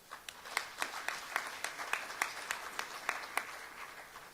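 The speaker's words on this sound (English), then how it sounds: "Please let us all give them an applause." Conference audience at an African Union men's gathering giving faint, sparse applause, a few distinct claps repeating at a loose, uneven rhythm from some distance.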